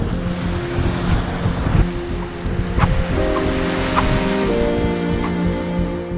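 Waves wash onto a Baltic Sea beach in a steady, broad rush, with wind buffeting the microphone and a few soft thumps on top, fairly loud and close, with no talk.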